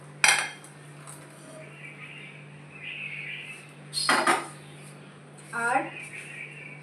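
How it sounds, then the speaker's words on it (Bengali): Malai paneer masala being transferred from the cooking pan into a bowl, with several close clinks and scrapes of utensil against metal and dishware in three distinct bursts, and a voice talking in between. "আমি এইখানে ট্রান্সফার করে দিচ্ছি এই বোলটাতে"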